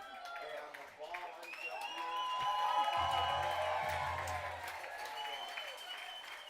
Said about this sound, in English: he's going to get an ovation for that from the Batavia crowd